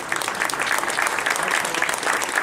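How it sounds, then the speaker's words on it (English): Audience at a talk breaks into steady, dense applause, loud and sustained throughout with no pauses. "would you please stand up so we can give you a round of applause?"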